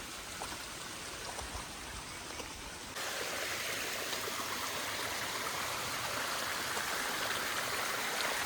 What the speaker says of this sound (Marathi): पाणी बघा वरतून डोंगरातून येते